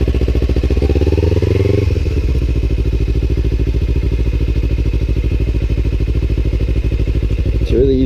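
Motorcycle engine revved in first gear as the bike pulls away from a stop, a loud, close, steady thrumming drone with pitch rising over the first two seconds, then holding under the engine's constant rumble.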